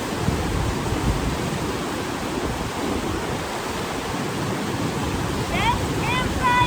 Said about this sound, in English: Got the river right there.